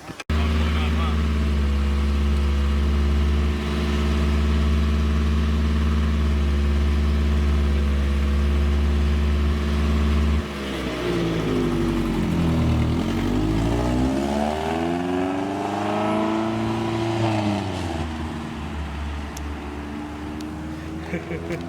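A car idles high at around 2,500 rpm with a loud exhaust leak, a steady deep drone that shifts and wavers partway through as the engine note bends, with people talking nearby.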